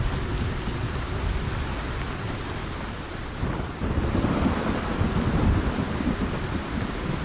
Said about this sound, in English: Storm gets louder when you get on the mountain.